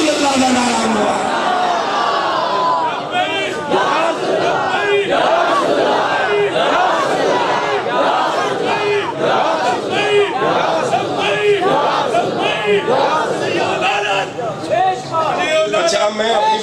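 A large crowd chants slogans in unison at a funeral gathering, loud rhythmic massed voices repeating continuously.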